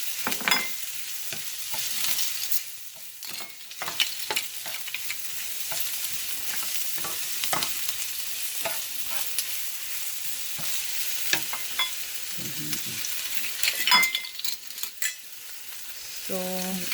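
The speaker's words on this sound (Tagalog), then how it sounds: "Ayan. Ginigisa na niya." Garlic and onion sauté in a pan for a Kapampangan bringhe, a steady sizzle broken by frequent scraping, stirring knocks and clinks throughout, with no talking.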